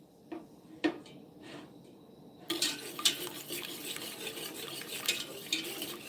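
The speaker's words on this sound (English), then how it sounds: "Now, I'm stirring constantly because I want it to brown for me. But I don't want it to burn." Gravy being stirred constantly in a pan as it browns, with a spoon scraping and clinking against the metal, a few sharp knocks at first, then a steady busy rasp of stirring, close and fairly quiet.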